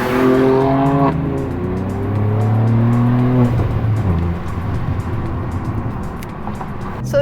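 A 2021 BMW F87 M2 Competition accelerating hard, its engine climbing through rising revs with a sharp gear change before settling into a rougher, lower drone as it passes close by, loud and with no voices.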